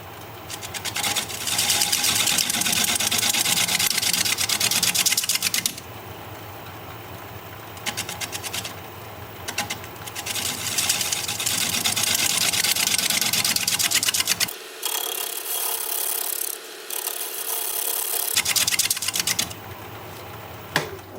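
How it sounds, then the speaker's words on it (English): A tool shear scrapes a turned piece spinning on a wood lathe, making a loud, continuous whirring hum under a busy rasp that drops away briefly and then returns, with no talking. "I said cut, but I'm shear scraping instead."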